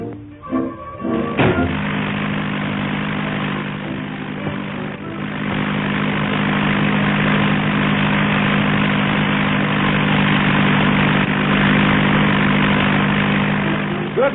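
A light propeller airplane engine drones steadily during landing practice, kicking in after a thump near the start and holding a loud, even hum to the end.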